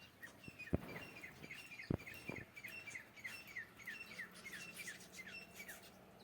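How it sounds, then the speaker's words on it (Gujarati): Sparrows arriving to eat grain chirp in quick, repeated bright calls, fairly faint and close, mixed with a few soft knocks and rustles. "જો ચકલો દાણા ખાવા આવી ગયા તારા વહેલા વહેલા"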